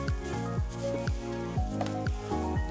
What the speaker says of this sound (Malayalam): നമുക്ക് ഈ നെയ്യിൽ അവല് ചേർക്കാം.